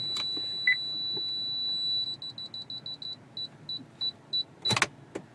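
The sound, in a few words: Honda Pilot car warning system beeping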